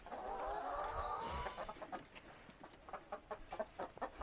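Chickens on a farm in Chiang Rai, Thailand, cluck nearby in short, soft, irregular bursts, starting over a brief low murmur of birds.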